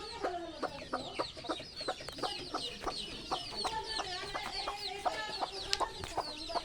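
A hen clucking among her brood of chicks, with a flurry of rapid, high, overlapping peeps and cheeps and softer low clucks, moderately close and fairly faint, continuous throughout.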